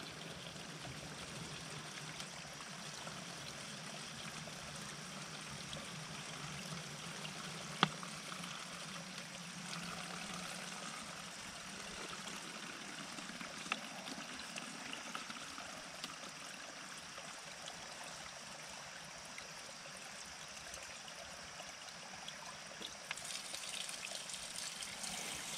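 Steady flowing water from the Cisucen spring runs throughout, a continuous broadband rush with a faint splash now and then, moderately distant and without voices.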